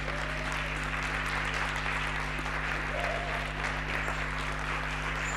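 An audience at an alumni network gathering applauds continuously, a steady even wash of claps over a constant low hum from the venue's sound system.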